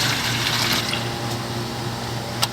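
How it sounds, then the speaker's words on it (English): Water gushing steadily from a coin-operated drinking water dispenser in Santa Barbara, a continuous close splashing rush that eases slightly toward the end. "go fill up some water"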